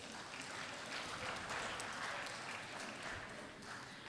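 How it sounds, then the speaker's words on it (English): An audience at a university public lecture and seminar gives a round of applause for the moderator, dense even clapping heard at a distance, quiet and continuous with no voices. "Please give a big round of applause."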